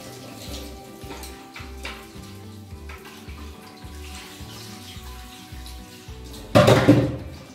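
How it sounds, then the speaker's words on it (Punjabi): Water is poured into a pot of Rajasthani Marwari kadhi: one short, loud splashing gush near the end, over steady background music. "ਪਾਣੀ ਹੋਰ ਪਾ ਦਾਂਗੇ।"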